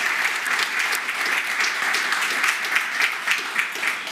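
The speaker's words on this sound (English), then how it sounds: "let's applaud to all the panelists" An audience at a technology innovation festival applauds the panelists with sustained, dense clapping from many hands, steady throughout without speech.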